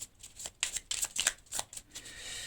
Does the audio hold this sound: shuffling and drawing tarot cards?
yes